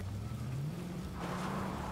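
A car drives along in Fortnite, its engine a steady low hum that rises in pitch midway as it picks up speed, moderately loud and continuous with no talk.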